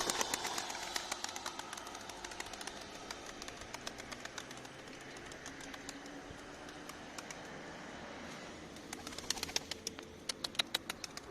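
Bursts of pigeon wings flapping come and go amid cooing and outdoor bird chatter, with a busier flurry of wingbeats near the end.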